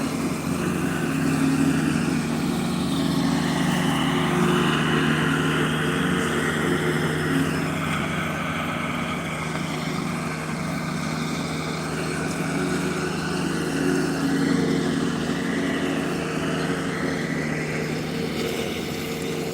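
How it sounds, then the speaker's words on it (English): A lawn mower engine drones steadily throughout while mowing, a close, continuous hum with slight swells in pitch as the load changes. "Definitely don't see mowers like that too often."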